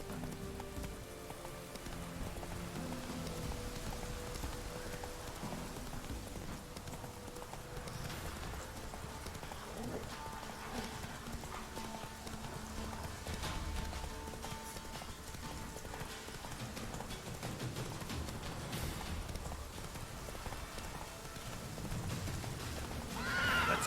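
Horse in the game Witcher 3 galloping with steady rhythmic clip-clop hoofbeats throughout, joined by whinnying neighs, close and fairly loud over a background of game ambience.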